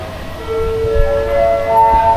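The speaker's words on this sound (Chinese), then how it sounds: "火车站。" A train sounds its horn at an old railway station in Hat Yai, Thailand, on a line to Malaysia. Sustained tonal horn notes shift in pitch over a deep rumble, loud and close, with no talking.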